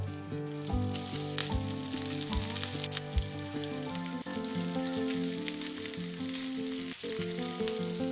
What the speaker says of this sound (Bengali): এবারে আগে থেকে কেটে রাখা সবজিগুলো দিয়ে দেব।